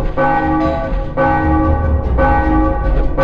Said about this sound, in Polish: Niby dzwony biją, tak jak to w różnych filmach było